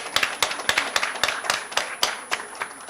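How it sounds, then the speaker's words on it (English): Clapping at a live Women Power event at India Habitat Centre: sparse, distinct claps in a steady rhythm from a small group or a single pair of hands, fairly close and moderately loud. "A big round of applause"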